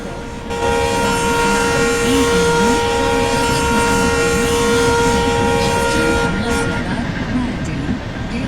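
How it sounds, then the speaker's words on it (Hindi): A sustained, loud train horn in an Indian train simulator game blares steadily for several seconds over rumbling rail noise, with a voice talking faintly underneath. "हॉर्न बजाते हुए निकलते हैं यहाँ से"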